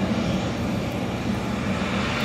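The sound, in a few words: airplanes at Heathrow Airport being pushed back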